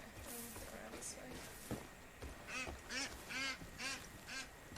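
A duck in the Far Cry 5 video game quacks repeatedly in a short run of nasal calls, faint behind low background game sound.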